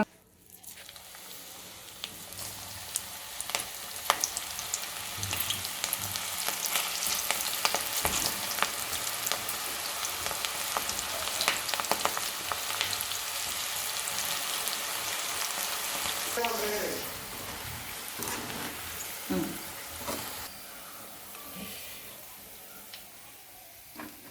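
Leftover chicken pakodi batter mixed with green chillies and curry leaves sizzles and crackles steadily in hot oil, a close, continuous frying hiss with occasional bubbling and stirring.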